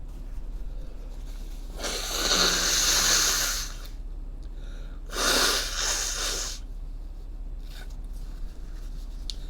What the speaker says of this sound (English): warned you I'd sneeze